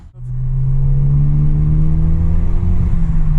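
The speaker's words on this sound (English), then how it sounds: "That last one was just a little partial throttle to see if it's acting somewhat normal" Ford Focus ST with a misfire fault pulling away at partial throttle, a steady, loud engine drone with clear rising harmonics, close and continuous with no talking.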